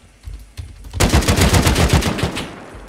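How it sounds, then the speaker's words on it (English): Automatic gunfire in the video game Rust: after a few soft clicks and taps, a rapid, dense burst of shots rattles for about a second and a half, then fades out. "Why is he shooting me?"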